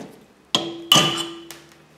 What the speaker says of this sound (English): So now I'm going to see if I can punch the rest of the stud out